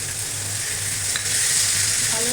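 Curry with green chillies and chopped tomato sizzles steadily in a pan while being stirred, a loud, continuous frying hiss with a low hum underneath.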